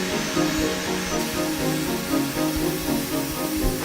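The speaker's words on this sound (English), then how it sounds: "The drill bit follows a pre-programmed route, shaping the car with utmost precision." Steady mechanical whirring and grinding of a 5-axis machine drilling a Range Rover Velar car model along a programmed route, continuous and fairly loud with a slight rhythmic pulsing throughout.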